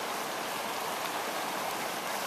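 A creek in the Yosemite and Tahoe area rushes in a steady, dense wash of flowing water, constant and fairly close with no voices over it.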